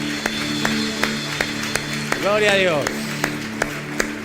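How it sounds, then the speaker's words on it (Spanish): A church congregation claps in a steady, even rhythm of sharp hand claps roughly twice a second, while a voice speaks and briefly sings out over it. "Dale un fuerte aplauso al Señor"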